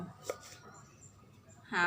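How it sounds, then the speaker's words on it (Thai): A knife chops a lime into small pieces on a board for a spicy lime salad, giving a few sharp, close cutting taps. A louder clatter comes at the end, with a quiet background. "หั่นเป็นชิ้นเล็กๆนะคะ แล้วก็ หั่นครึ่ง"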